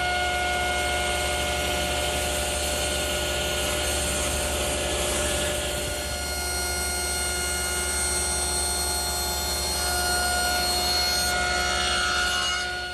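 A saw cuts along the face of a wooden garden armchair backrest, a steady, continuous machine whine with rasping wood noise running loud and unbroken throughout.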